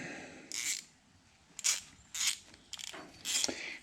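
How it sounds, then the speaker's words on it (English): Mechanical clicks and ratcheting scrapes as the solenoid is worked off a new 7.3 Powerstroke diesel fuel injector, four short bursts with pauses between, close and moderately loud. "We're taking the solenoid off of a new injector because it will not, and I do mean will not, fit otherwise"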